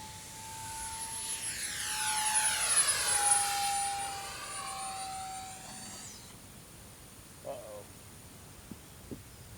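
XFly Twinliner model jet with twin 40mm electric ducted fans passes overhead, a rising then falling high whine sweeping by over several seconds, then fading into outdoor quiet with a few faint distant knocks.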